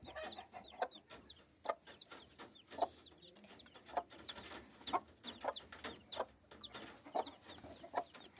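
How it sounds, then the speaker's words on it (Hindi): A Black Aseel hen with about nine newly hatched chicks, soft clucking mixed with many rapid high peeps from the chicks, faint and close, continuous throughout. "हमारी सील मुर्गी ने ये निकाले हुए हैं तकरीबन 9 चिक्स अच्छी तरीके से निकाल दिए हैं।"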